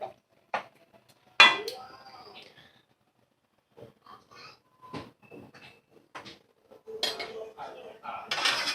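A metal pot lid is set down over a pan of chicken, giving a sharp clatter of cookware and a few lighter clinks and knocks among soft kitchen handling sounds.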